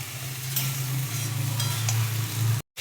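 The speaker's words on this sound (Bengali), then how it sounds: "জলটা দিয়েও এখন একটু কষাবো।" A spice masala is stir-fried in a pan with a splash of water while cooking egg with pointed gourd, producing a constant bubbling sizzle with faint stirring scrapes that cuts off abruptly near the end.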